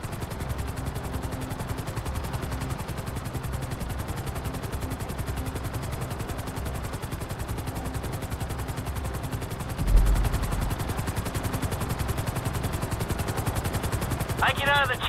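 A helicopter in Grand Theft Auto 5 thuds steadily in the background while rapid automatic gunfire rattles throughout, with a heavier bang partway through and an electronic chirp near the end.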